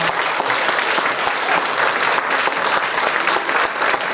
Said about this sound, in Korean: 박수 큰 박수 한번 부탁드릴게요